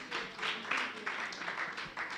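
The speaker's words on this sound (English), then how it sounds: "Can we clap for them?" Audience applause for a group at a round table discussion, a steady patter of many hands clapping for about two seconds at moderate level, with no speech over it.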